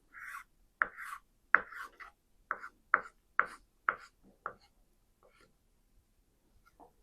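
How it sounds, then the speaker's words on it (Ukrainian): A knife chops boiled eggs on a board in a home kitchen, about eight crisp, evenly spaced strikes, then a few faint taps trailing off; close and quiet, with no talk. "дорізати трошки яйця"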